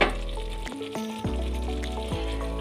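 Thinly sliced fish roe frying in a hot pan, a steady sizzle with a few scraping stirs and clinks of a utensil against the pan, close and continuous with no talk.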